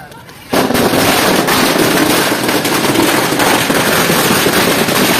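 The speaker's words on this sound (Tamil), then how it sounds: "ஏய் வெடி வெடிப்பா வெடிப்பா வெடி" Diwali firecrackers burst in a dense, nonstop volley during a festival celebration in Alapparai, loud and close, beginning abruptly after a half-second and crackling continuously to the end.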